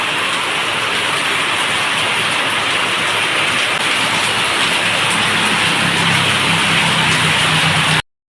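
Heavy rain pours down in a loud, dense, unbroken hiss for several seconds, then cuts off abruptly.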